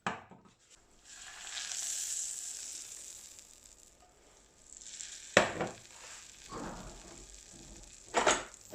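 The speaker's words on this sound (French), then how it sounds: "vous prenez environ 25 g de beurre que vous faites dorer" Butter, about 25 g, browning in a pan for a vegetarian spinach lasagne, with a soft steady sizzle and a few louder scrapes and clatters of a utensil against the pan.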